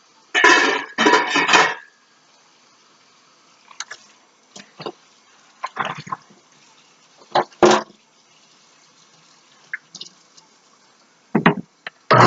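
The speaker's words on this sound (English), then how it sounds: "And put the lid on that" A lid clatters onto a cooking pot of peeled potatoes in salted water with a splash of oil, a short metallic rattle at first, then a few scattered light knocks and clinks in a quiet kitchen.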